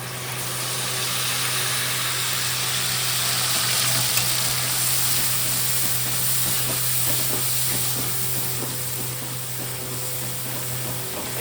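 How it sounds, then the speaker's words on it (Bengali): Spice masala and potatoes frying in a pan for a Bengali mocha ghonto with chickpeas, a steady, close sizzle with faint hiss running unbroken under a low constant hum. "আলু কষানো হয়ে গেছে এখন মশলাটা কষাবো মশলা দিচ্ছি"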